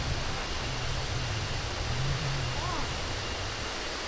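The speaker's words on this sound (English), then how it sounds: "I can hear the waterfall, I can start to see the waterfall" A large waterfall near Batu, Indonesia, pours with a constant broadband roar that fills the space, while voices speak faintly beneath it.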